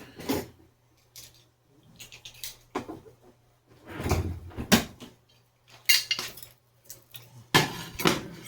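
A plate is lifted out of a kitchen cupboard, with a string of close clinks, light clatters and knocks of crockery and cupboard wood spread unevenly across a quiet room.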